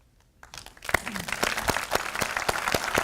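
Applause breaks out at an Officer Candidate School Hall of Fame induction ceremony, rising after a short quiet start into steady, dense clapping from the audience with sharp individual claps standing out.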